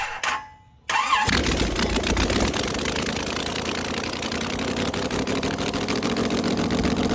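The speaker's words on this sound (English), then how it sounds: "the engine actually ran pretty well, so I decided to gravity feed it some fuel" A previously seized small block Chevy V8, gravity-fed fuel, cranks and catches, then settles into a loud, steady rumbling idle up close.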